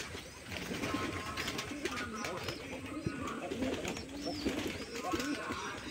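Pigeons coo on a rooftop, soft repeated throaty calls running steadily through the clip amid constant ambient noise and faint background voices.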